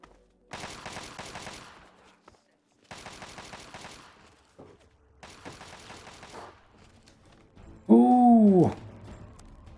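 Three long bursts of rapid automatic gunfire in Fallout 3, each a couple of seconds long with short gaps between, followed by a brief loud creature roar or screech near the end.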